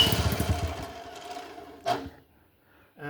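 Velocette Viceroy scooter engine with the choke off, briefly firing and puttering before dying out, followed by a short cough and a faint restart attempt at the end.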